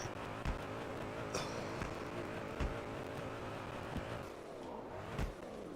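A car engine revs in a racing video game with a moderate, continuous drone that rises and falls, punctuated by a few sharp thumps.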